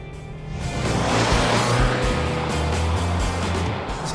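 A 2022 Subaru Forester Wilderness with a CVT pulls hard under acceleration, a steady, loud engine drone holding a fairly constant pitch and blending with road and wind roar for about four seconds, no voices.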